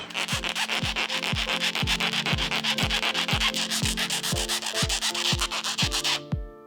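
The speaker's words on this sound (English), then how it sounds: "But you do want to take a file and square off the edge." Hand file rasping back and forth across the edge of a metal part for a 5.9 Cummins engine, a steady series of about twenty close, even strokes with sharp scraping onsets.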